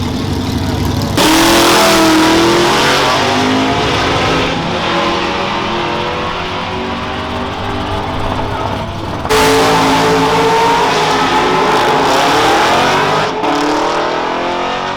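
Chevrolet Camaro SS launching hard down a drag strip, a loud, close engine roar climbing through revs, dropping briefly near the middle, then surging again with another sustained high-revving pull.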